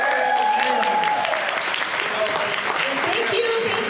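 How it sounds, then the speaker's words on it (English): An audience applauds at an English-language business presentation in Orlando, Florida, a dense burst of clapping heard over and alongside talking voices throughout. "clap it up for the English meeting that we have now"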